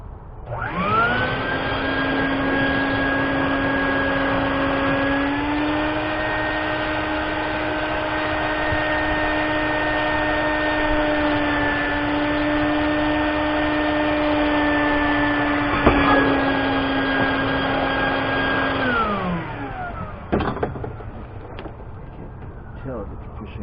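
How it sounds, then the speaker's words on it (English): A vacuum cleaner set to blow pushes air to inflate an object during a Trident 13 restoration, droning loudly and steadily for about eighteen seconds before winding down, followed by a few clicks and handling sounds. "Set my vacuum to the blow side."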